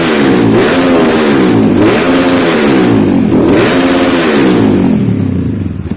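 A motorcycle engine built with a Herex 71 mm piston and 66.2 mm stroke is revved repeatedly, its loud, close exhaust note rising and falling in several even waves before settling toward idle.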